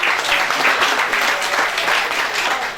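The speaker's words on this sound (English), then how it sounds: "Let's give a round of applause." Continuous applause from a large crowd at a secondary school literature performance, loud and sustained from start to finish.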